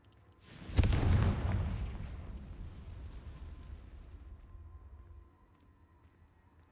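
In a Harry Potter video game, a Confringo fire-blast spell sets off one big, booming explosion, and a deep rumble trails away over several seconds.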